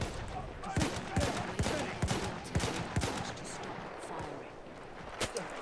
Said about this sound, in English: Taking fire from your right, Derek, about 40 meters out.